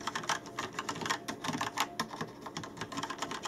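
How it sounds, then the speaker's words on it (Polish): Typing on a Rapoo V700 mechanical keyboard fitted with Yellow switches, with a quick irregular run of close, crisp key clicks and taps and no talk. "Przy okazji możecie posłuchać, jak te przełączniki typu Yellow się zachowują."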